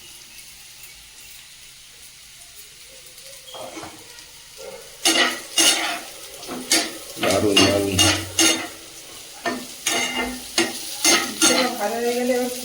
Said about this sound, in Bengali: ওদিকে উচ্ছেটা একটু উল্টে দাও।